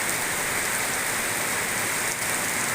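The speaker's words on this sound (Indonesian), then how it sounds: "Nunggu hujan reda lama ya." Heavy rain pours down in a dense, steady hiss of drops striking surfaces, loud and continuous with no pauses or voices.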